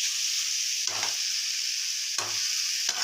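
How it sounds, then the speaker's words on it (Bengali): Chicken with spices fries in a pan and is stirred, a loud continuous sizzle broken by three scraping stirring strokes at irregular intervals, with no talking. "আমি যে চিকেনটা বানাচ্ছি সেটাতে পরেতেই দেয়, ঠিক আছে। এটা এখন ভাজা হবে, মানে কষানো হবে"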